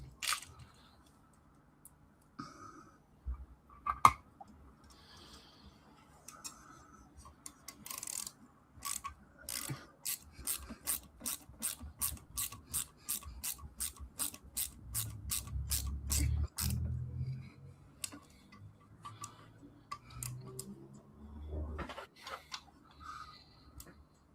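An E-screw is driven into a Lamborghini Aventador LP 700-4 scale model, a quick run of small regular clicking turns from a screwdriver, preceded and followed by scattered quiet handling noises, close and faint.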